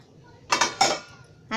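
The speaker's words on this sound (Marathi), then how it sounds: "आता हे पॅन आहे ना, मी खाली घेते जरा" A metal pan lifted off a gas stove after the flame is turned off, with a tawa pizza cooking inside, giving two close, bright metallic clanks followed by a softer knock.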